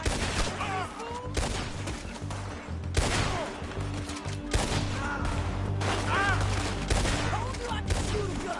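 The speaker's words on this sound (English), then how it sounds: "Told you I could shoot a gun, didn't I?" Repeated gunshots ring out in a Red Dead Redemption 2 shootout, sharp cracks spaced every second or so with echoing tails, mixed with game voices and shouts in the background.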